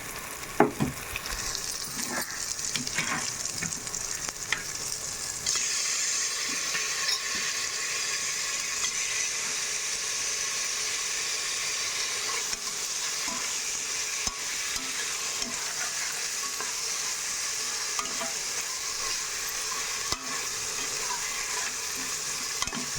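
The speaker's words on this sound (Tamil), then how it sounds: "சேர்த்துட்டு ஒரு நிமிஷம் இப்படி நல்லா வதக்கிக்கோங்க, இஞ்சி பூண்டோடு சேர்த்து" Mutton breast bones sauté with ginger and garlic in a hot pan, giving a steady, close sizzle with stirring scrapes throughout and no talking.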